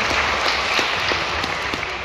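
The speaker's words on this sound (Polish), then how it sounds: "Brawa, dziękuję." An audience at a school Independence Day ceremony in Poland claps in sustained, even applause that fills the room, no talking over it.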